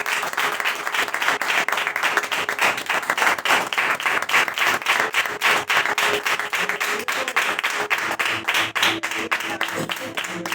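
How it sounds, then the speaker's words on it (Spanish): Church congregation giving loud, sustained applause at a service, dense clapping continuing steadily throughout with no speech over it. "Cuando dicen amén, den un fuerte aplauso al Señor."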